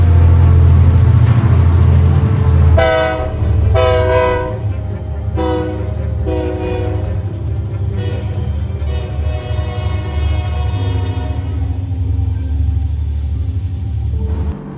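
A freight train hauled by a pair of GP39 locomotives with an old Southern Pacific unit sandwiched between rumbles past close by, its horn sounding in several loud blasts over the heavy, continuous engine and wheel noise.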